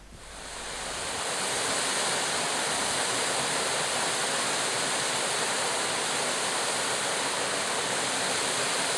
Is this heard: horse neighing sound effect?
no